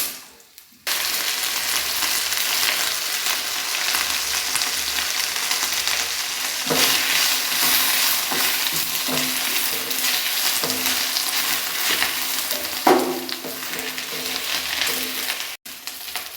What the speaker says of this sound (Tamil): கீரை நல்லா வதங்கிடுச்சு